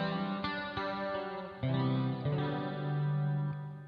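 Electric guitar played through a clean JC-120 amp model on a Headrush Gigboard, bright chorus-tinged chords strummed and left ringing, several attacks over a few seconds with sustained, shimmering decay.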